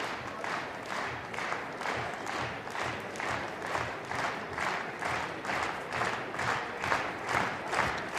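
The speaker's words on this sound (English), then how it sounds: "Crowd giving some support" Crowd at a judo gold medal contest in Upper Austria clapping in steady rhythmic unison, a moderately loud, even pulse of applause filling the hall with no voices standing out.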